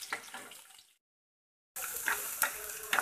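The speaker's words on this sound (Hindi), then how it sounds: "हमने प्याज काट कर रखी थी वो डालेंगे, और फिर बराबर चला देंगे सुनहरा होने तक इसे भूजेंगे" Chopped onions fry and are stirred in a pan while cooking a quick pasta dish, giving a close sizzle with scraping stirs, interrupted by a short silent gap.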